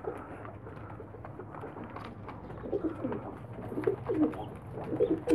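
Domestic pigeons coo in a loft, low throaty calls that rise in bursts over a steady background hum, fairly close and moderately loud.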